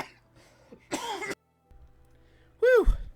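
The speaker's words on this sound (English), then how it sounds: "had a sudden coughing fit, excuse me." A man's coughing fit: a harsh, loud burst of coughing, a brief pause and faint breathing, then a second strained, wheezy cough close to the microphone.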